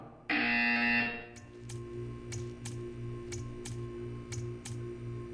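A loud, harsh electronic buzzer in Portal 2 blares for about a second, then stops, leaving a soft steady ticking over a low hum.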